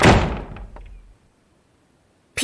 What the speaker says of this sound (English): The door of the tunnel closed behind him with a big crash.